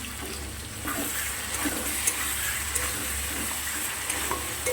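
Fish curry masala for katla macher jhol being fried and stirred in a pan, a steady close sizzle under soft scraping and stirring strokes throughout, with no talk.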